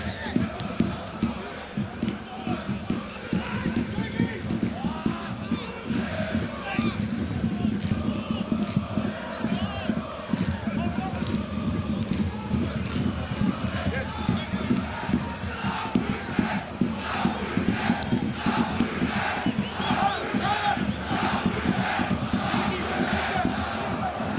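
A football stadium crowd at a German cup match roars and chants steadily, with a dense, continuous swell of voices and some commentary over it.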